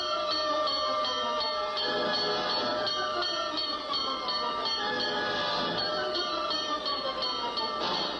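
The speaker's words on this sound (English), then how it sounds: "To the clang of bells and the shriek of sirens, Bill surges forward on his mission of mercy" Fire engine bells clang rapidly and repeatedly over a dense, noisy background, ringing continuously without pause.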